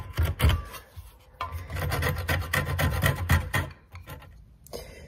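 A tool shaves wood off a dowel during a broken chair leg repair, producing a series of quick rasping scrapes in irregular bursts, close and fairly quiet, with no talking.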